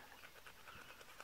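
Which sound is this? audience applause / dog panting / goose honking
dog panting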